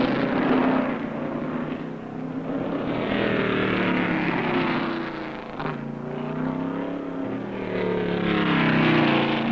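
Richard Petty's 1969 NASCAR Grand National Ford stock car roars at full throttle around the racetrack, a loud, sustained, rising and falling engine drone with no voices.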